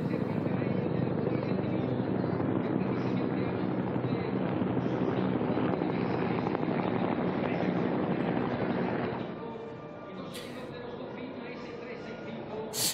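Big twin-rotor Chinook transport helicopters flying over a military parade for Spain's 12 October national day, a loud steady rotor roar for about nine seconds that then eases to a lower, more distant drone, with voices talking faintly over it.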